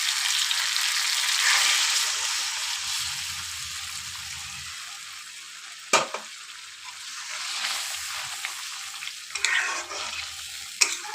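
Chicken masala fries and is stirred in a pan for a Bengali chicken gravy, a steady close sizzle that fades as hot water goes in, followed by a few sharp clinks and scrapes of a utensil.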